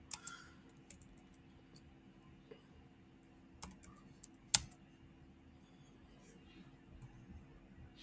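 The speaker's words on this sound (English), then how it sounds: "Now I can type my message like hello." Sparse computer keyboard key presses and clicks as a short message is typed, faint and irregular with a few sharper taps over a low steady background hum.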